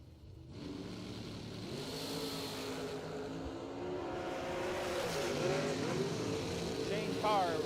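A dragster runs at a drag strip during bracket racing: a distant engine drone rises and climbs in pitch under a steady announcer's commentary, fairly faint overall.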